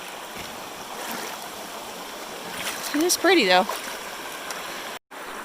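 Rock Creek runs past in a steady broadband rush of flowing water, with a voice speaking briefly over it partway through.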